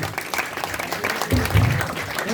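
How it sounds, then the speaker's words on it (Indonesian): Audience applause breaks out for gamelan musicians at a Balinese Calonarang performance with bondres comedy, a burst of clapping rising midway and continuing steadily, moderately loud and close. "Tepuk tangan untuk penabuh kedewengi."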